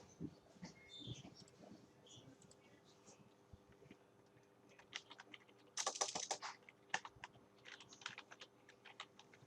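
Keys clatter on a computer keyboard in quick, irregular runs of soft clicks, close by and quiet, with a denser burst of typing near the middle under faint background noise.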